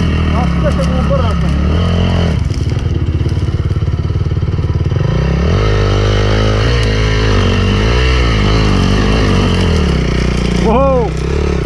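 An enduro motorcycle's engine chugs and revs close by as the bike is turned around on a forest trail, with rising throttle sweeps near the end and voices briefly over it.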